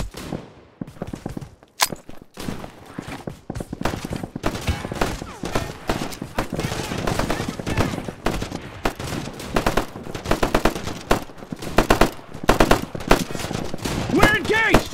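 Rapid video game gunfire rattles in dense bursts and single shots, loud and close, nearly continuous for the whole stretch, with brief gaps and shouted voices mixed in.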